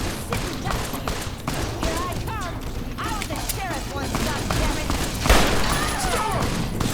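Rapid bursts of gunfire in Fallout: New Vegas, in Zion Canyon, crackle and thud in the background while voices talk over the top.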